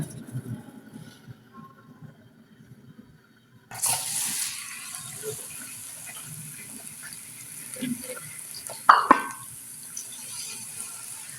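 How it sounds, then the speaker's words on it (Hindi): Onions fry in oil in a pan, quiet faint rustling at first, then a sudden sizzling hiss that continues steadily, with a sharp clink partway through, close up and without speech. "प्याज को हम ब्राउन करेंगे, इसे हल्का ब्राउन नहीं करना, गहरा।"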